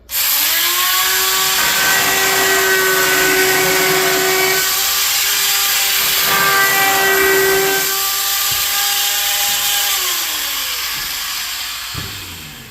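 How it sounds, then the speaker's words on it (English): A laminate trimmer routes the edge of countertop laminate, its motor whining steadily and loud close by for about ten seconds, the pitch dipping slightly under load before the tool winds down near the end. "This is a laminate trimmer, and so I just put a piece of tape on there so I don't scar up the countertop."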